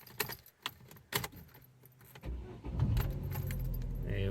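A car with a gearbox that won't change gears is started with a key: close jangling keys and clicks come first, then the engine cranks and settles into a steady, loud idle.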